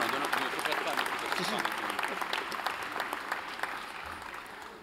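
Audience applause for the Essonne firefighters at a town's New Year address in Courcouronnes, a dense steady clapping that carries the full length and tapers slightly toward the end, with some crowd noise mixed in.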